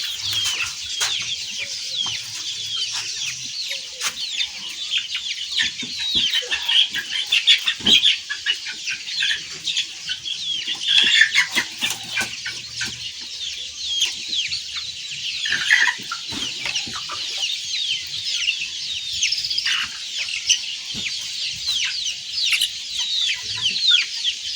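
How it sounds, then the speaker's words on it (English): A batch of chicks on an African village farm chirps and clucks continuously, a dense, busy chorus of many small birds close by with occasional fluttering. "And this is another batch of chicks."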